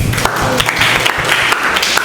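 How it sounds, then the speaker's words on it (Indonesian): Classroom audience clapping in a lecture, a short burst of dense, fairly loud applause with scattered sharp claps and a little voice mixed in. "Tepuk tangan dulu."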